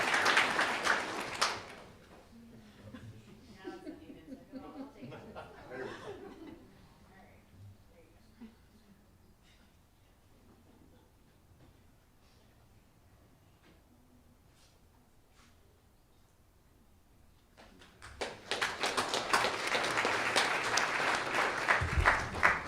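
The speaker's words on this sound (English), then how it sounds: "He wants applause too, y'all." Applause from the audience at a county board of education meeting, in two loud bursts at the start and end. Quieter talk and scattered taps fill the stretch between them.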